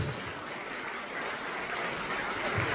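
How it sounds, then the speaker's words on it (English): Steady applause from the audience at a seniors week comedy show in a civic centre, filling the room evenly for a few seconds with no voices over it. "Keep the applause going for the incredible Christopher Whitehouse."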